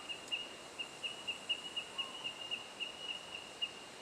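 Bell miner birds calling in bushland, a string of faint, high, evenly spaced metallic chime-like pips repeating about every quarter second over quiet background.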